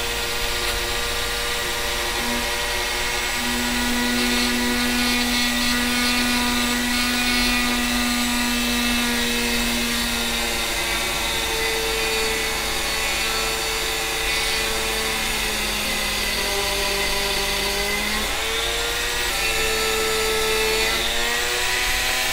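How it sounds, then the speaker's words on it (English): A Dremel rotary tool with a 1mm drill bit whines steadily at high speed, its pitch shifting slightly as it bores a hole in a part of a valve radio, running continuously up close. "I'm going to try putting a hole in it with the Dremel"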